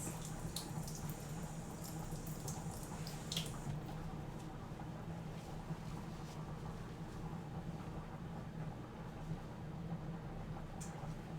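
Tap water runs steadily from a kitchen faucet as buttery gloved hands are rinsed during home cooking, a continuous hiss and splash with faint clinks, no talk over it.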